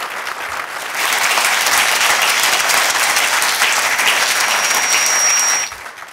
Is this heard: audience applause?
yes